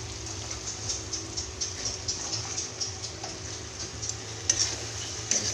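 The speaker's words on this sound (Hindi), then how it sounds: "इसको भूनेंगे अच्छे से।" Chopped ridge gourd (jhingni) frying in hot oil in a home kitchen: a faint, steady sizzling hiss throughout, with occasional light clicks of stirring.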